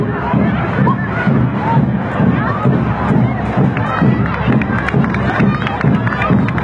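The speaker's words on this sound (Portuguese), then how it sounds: "Vamos a torcida bem forte, a banda marcial Charles Maia, do Colégio Estadual de São Fidélis." A steady, dense crowd din at a street parade for the Charles Maia marching band of Colégio Estadual de São Fidélis, with voices talking and calling throughout.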